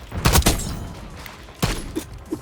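Shots from the Zarkov 7.62 marksman rifle in Black Ops 6 crack out in a quick burst at the start and again after a short pause, single sharp reports heard up close with no talking.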